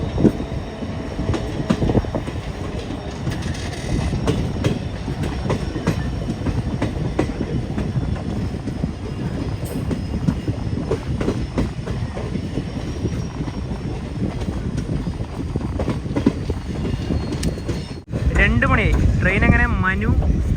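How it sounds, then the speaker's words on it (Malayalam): The Silchar to Agartala Express rolls into Manu station in Dhalai district, Tripura, with a loud steady rumble and rhythmic clatter of wheels on track, heard from on board, ending in a brief squeal. "ട്രെയിൻ അങ്ങനെ മനു സ്റ്റേഷനിലേക്ക് ഇതാ എത്തിക്കൊണ്ടിരിക്കുകയാണ്"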